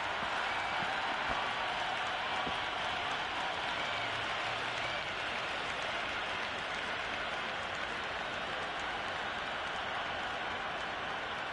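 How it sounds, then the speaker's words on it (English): Stadium crowd at a cricket match in Cricket 26 roars with steady, dense applause and cheering from the stands, a continuous broad wash of clapping that holds at an even level throughout with no voices standing out. "It's the most enthusiastic crowd you could ever see right now. There's a buzz, a real buzz coming from the stands."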